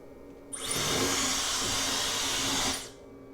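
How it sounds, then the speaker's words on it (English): A loud, steady Dyson hair dryer roar, powered by an EcoFlow River 2 portable power station, starts abruptly, runs for about two seconds, then cuts off as the station shuts down, leaving quiet background. "Let's push it to the limit by connecting a Dyson hairdryer."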